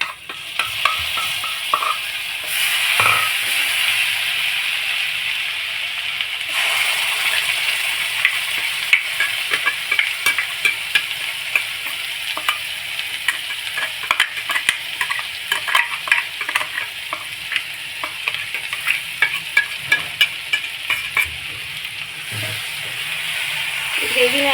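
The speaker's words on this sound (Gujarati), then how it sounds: "ગ્રેવીને આપણે મસાલા સાથે સરખી મિક્સ કરી લઈએ." Paneer korma gravy mixed with coriander-cumin spice powder in a sizzling pan, steady frying hiss under repeated scraping stirs of a spoon, close and loud, with a voice talking at times.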